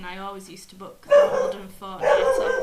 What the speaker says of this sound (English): Oh, that's my dog barking as well.